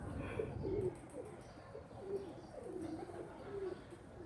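Breeder pigeons coo softly in a loft, a series of low, rolling coos repeating every second or so, fairly quiet, with a few light chirps behind them.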